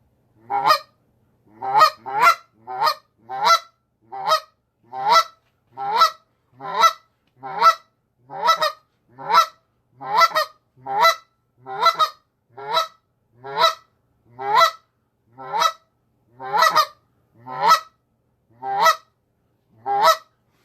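Next-gen Canada goose calls are blown and played back from a phone, producing a long series of sharp, evenly spaced honks and clucks, about twenty in a row, clear and alone.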